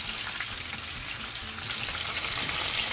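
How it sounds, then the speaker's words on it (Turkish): Peppers fry beside meatballs (Turkish köfte) in a pan, giving a steady, dense sizzle that stays loud and even throughout with no talking. "Bakın biber ve domateslerimi de köftelerimin yanında kızarttım."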